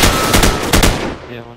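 Rapid close gunfire from an M16 rifle in a video game: a loud burst of several quick shots that fades into a decaying echo, with no talk.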